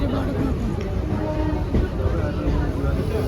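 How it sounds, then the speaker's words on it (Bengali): Low rumbling rattle of a moving train, heard from inside a carriage, with a murmur of passengers' chatter underneath. "ট্রেন ছেড়ে দিয়েছে"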